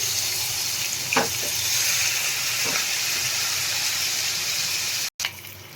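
Onions frying in a pan, a steady, loud broadband sizzle and hiss that runs throughout with a few faint clicks and a brief cutout near the end.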